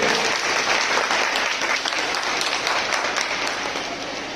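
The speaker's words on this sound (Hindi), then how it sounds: "समाज के जितने लोग बैठे हैं तालियों के साथ आपका स्वागत करें" Sustained applause from a seated community audience at a political rally in Prayagraj, dense steady clapping filling the space throughout and easing slightly toward the end.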